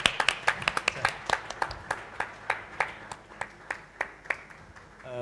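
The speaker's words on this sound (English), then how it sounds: "We're going to give you a round of applause" A few people clap at a sustainability panel on entertainment and the arts. Sparse, distinct handclaps fall in an irregular rhythm that slows and thins toward the end, with no talk.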